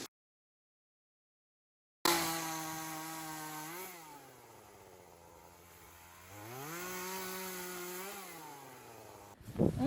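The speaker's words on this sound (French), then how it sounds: "On scie plus bas" A power saw cuts low through an apple tree trunk being prepared for grafting, starting abruptly after a short silence, with a loud buzzing drone that sags in pitch under load and then rises again, up close and alone.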